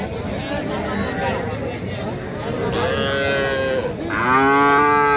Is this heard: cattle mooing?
yes